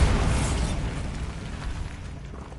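A Bombarda spell blasts a barricaded archway in Hogwarts Legacy, giving one loud, close explosive boom that decays into a rumbling tail over a couple of seconds, with no talk over it.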